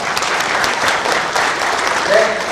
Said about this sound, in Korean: 토론 진행을 지지한다는 의미에서 박수 한번 부탁드리겠습니다